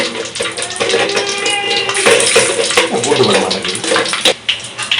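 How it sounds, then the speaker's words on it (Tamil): Fenugreek seeds fry in hot oil in an outdoor village kitchen in Jaffna, hissing loudly and continuously, close up like rushing water. "ஓகே, எண்ணெய் நல்லா கொதிச்சிட்டுது. வெந்தயம்"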